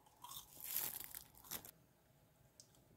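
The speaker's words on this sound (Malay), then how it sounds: "Garing. Dengar tak garing kan?" A close, crisp crunch of biting into a fried banana fritter, followed by a few quieter crackling chews, with no talking.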